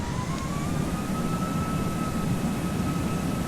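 Jet engine of an airliner spooling up on the runway in the Prepar3D flight simulator, a steady loud broadband roar with a rising whine tone held throughout, alone with no talk.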